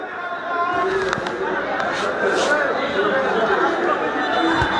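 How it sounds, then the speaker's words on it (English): Large crowd of supporters at a district football match in a stadium, a steady hubbub of chatter and cheering with a voice talking over it. "This is the crowd"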